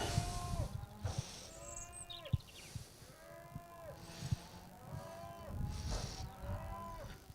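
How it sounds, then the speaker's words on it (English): A cow bellows repeatedly in a field, several long drawn-out moos at irregular intervals, fairly clear and close, with faint background noise and no talk. "That's a cow that's making an awful noise."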